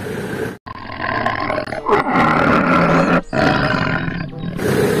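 A loud, close tiger roar from a toy, long and growling, repeating in sustained bursts with a brief break between them.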